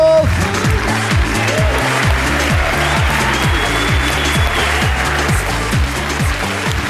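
A studio audience at a stand-up comedy show claps steadily over a loud, thumping rhythmic music beat that runs underneath the whole time.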